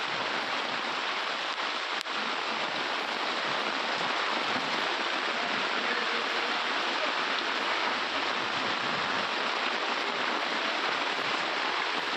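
Heavy rain pours down over Hubballi city during an all-night downpour, giving a steady, dense hiss that stays constant and loud from start to finish.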